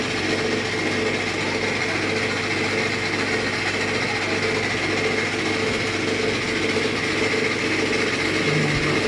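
Steady, droning mechanical hum of a lathe cutting the bush of a submersible motor, running continuously at an even level with no talk.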